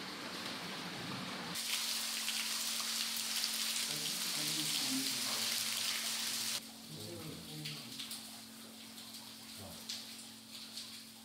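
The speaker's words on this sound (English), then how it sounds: "We can hear the sound of flowing water." Continuous rushing of flowing water echoing in a cave hall about 10 meters high, fairly faint, with a steady hum and a sudden drop in level midway.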